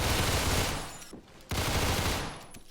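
A machine pistol in Phantom Forces fires in two dense, loud bursts, each close and continuous, broken by a brief pause of about half a second.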